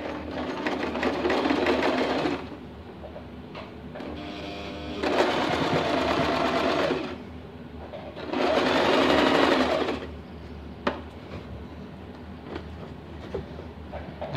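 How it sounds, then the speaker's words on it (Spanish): A sewing machine stitching elastic onto stretched fabric, running in three steady whirring bursts of about two seconds each with quiet pauses and small clicks between them, close up. "Estiramos a nuestra tela y cosemos."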